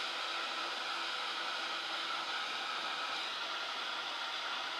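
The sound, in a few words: drying ink with a heat tool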